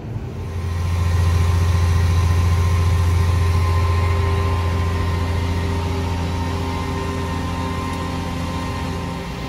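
A farm spray tractor's engine runs at a steady idle, fading in over the first second and then droning on as a constant, moderately close mechanical hum with no voices.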